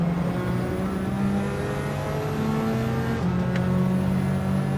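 Race car engines drone and whine in a Gran Turismo 7 online lobby race, tucked behind a Bugatti Veyron, with steady sustained engine tones shifting pitch as cars pass, no voices.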